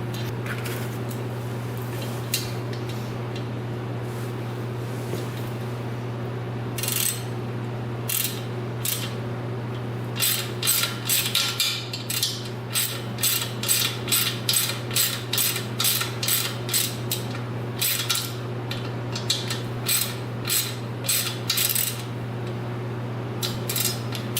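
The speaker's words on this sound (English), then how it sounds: "So we're going to countersink it halfway until that line" Bearing being driven into the swing arm port of a 2020 Honda CR80 with a socket, heard as a run of sharp metallic clicks and taps that speed up into a steady rhythmic series over a constant low machine hum.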